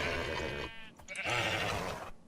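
A sheep in a video game bleats in two drawn-out, wavering calls, close and clear, with a short break between them and nobody speaking over them.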